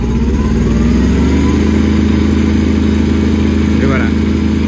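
Kubota B1121 compact tractor engine with its radiator packed with dirt, running loud and close with a steady low drone that rises slightly as the throttle opens.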